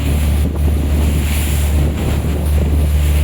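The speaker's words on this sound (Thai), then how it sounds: "คลื่นทะเลคลื่นแรงมากครับ" Boat under way at sea in Sattahip Bay, rough strong waves slapping and rushing past the hull while heavy wind buffets the microphone, loud and continuous with no voices.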